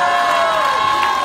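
Crowd at a slam concert closing a final, loud sustained cheering and shouting with high voices, filling the whole stretch.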